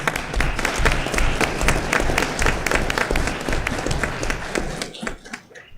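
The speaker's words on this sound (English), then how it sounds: "We'll give Amadeo a round of applause." A school district board meeting audience applauds an award recipient, dense clapping sustained at full strength for about five seconds before tapering off at the end, with no talk over it.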